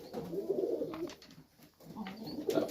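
Young Serbian highflyer pigeons coo close by in two soft, throaty phrases with a brief quiet gap between them.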